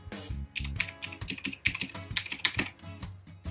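A username and password are typed on a computer keyboard, heard as a close, fast, uneven run of key clicks and clacks with short pauses between bursts.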